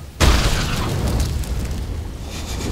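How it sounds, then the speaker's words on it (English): A heavy in-game explosion in the strategy game Massive Chalice: a sudden booming blast hits at once, then leaves a long, loud rumbling roar that holds steady to the end, with no voices. "Explosion."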